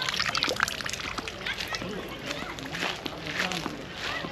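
Water splashes and sloshes from a new hand pump at Padidan railway station, a steady wet spatter under a voice talking.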